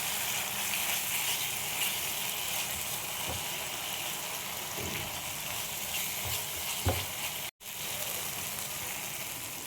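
A spice paste with turmeric, soy sauce and tomato ketchup fries in oil for a rohu fish curry, giving a dense, continuous close sizzle with a few soft stirring knocks and a brief dropout near the end.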